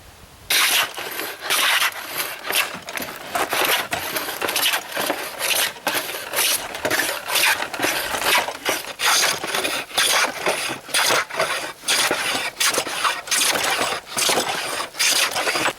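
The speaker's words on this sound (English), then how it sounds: "we'll get it clamped up and we'll start planing" A hand planer shaves a clamped four-foot wooden board in repeated rhythmic passes, each a loud rasping motor whine with short pauses between strokes.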